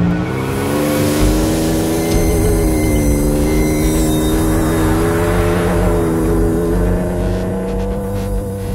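Ford Ranger Raptor driving on sand dunes, its engine a loud, continuous, close drone that holds steady throughout with heavy wind and tyre roar.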